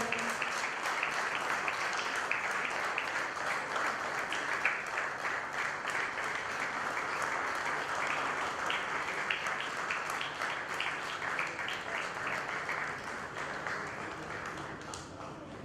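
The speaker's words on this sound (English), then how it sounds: "The applause should not stop for the three of them." An audience at a ceremony keeps up a long, steady round of applause, a fairly quiet, dense patter of many hands that continues without a break and tapers slightly near the end.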